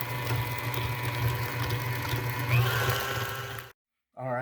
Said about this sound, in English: now I'm going to stop the mixer again.